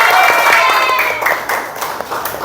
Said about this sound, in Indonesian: Nah, itu tepuk tangan dulu.